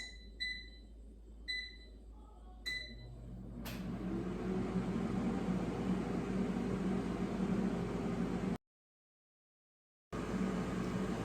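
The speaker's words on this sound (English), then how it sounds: "let's put the air fryer basket with the coconut shrimp in the air fryer" Frozen coconut shrimp cook in an air fryer set to 390 degrees Fahrenheit. A few button beeps are followed by the fan starting up into a steady, close whirring hum that drops out briefly and then resumes.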